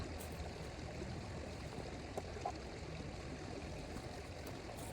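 A creek in a valley flows steadily with a soft, continuous rushing wash, even and unbroken throughout, with no voices.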